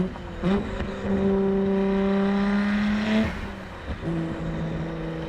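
A loud Nissan Skyline GT-R R34 engine holds a steady, rising drone, then the pitch drops sharply and blips back up as the revs are matched on a downshift.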